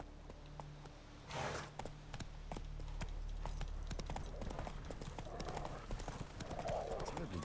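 Roach, a horse in a video game, with hooves clip-clopping in a quick, steady gallop rhythm, plus a brief snort or whinny, under soft game ambience and occasional talk.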